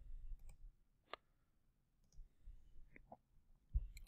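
A single sharp computer mouse click near the start, followed by a few faint scattered clicks and small desk noises in a quiet room.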